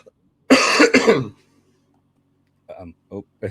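A single loud, harsh cough up close, followed by a pause and a few quieter throat sounds.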